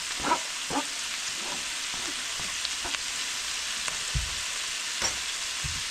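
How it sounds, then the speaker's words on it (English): Two small chopped onions fry in a hot pan, sizzling with a steady hiss broken by occasional stirring scrapes and soft knocks, heard alone and close. "We're just going to brown these."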